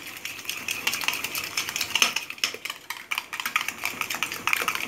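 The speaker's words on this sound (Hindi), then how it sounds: "क्रीम ऐड करके इसको अच्छी तरह से आपने मिक्स कर लेना है।" A spoon stirs cream into Russian salad in a bowl, giving a steady run of quick, close clicks and scrapes with a wet, squelchy texture.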